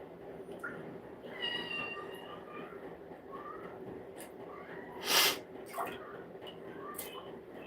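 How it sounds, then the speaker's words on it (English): A cat meows a few times, faint and nearby, over a steady low background hum, with a sharp burst of noise partway through. "Cat, what are you doing in here?"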